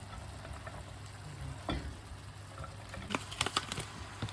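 Carrots sizzling in a pan of oil for homemade plov, a soft steady frying hiss with a few clinks and stirring scrapes near the end, quiet and close.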